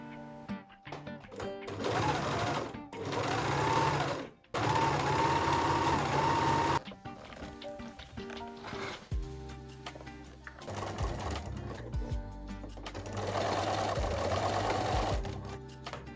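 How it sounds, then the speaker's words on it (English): An overlocker runs in bursts as it finishes the curved armhole seam of a sleeve and the side seam of a bodice, a steady, close mechanical whirring that stops and restarts with quieter handling sounds between runs. "I overlocked the sleeve, only the curved part of the armhole, also the side of the bodice as well."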